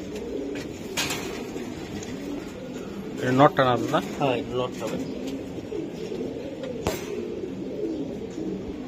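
Male racing pigeon cooing up close, a short burst of rolling, rising and falling coos while people talk nearby.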